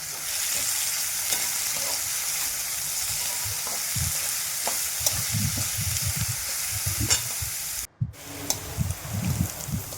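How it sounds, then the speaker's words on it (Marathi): Chopped onion fries in oil for a roasted potato bharit with a steady sizzling hiss. Stirring and scraping strokes in the pan get busier toward the end, broken by a brief dropout. No voices are heard. "कांदा देखील आपल्याला मस्त पैकी असं व्यवस्थित परतून घ्यायचा आहे"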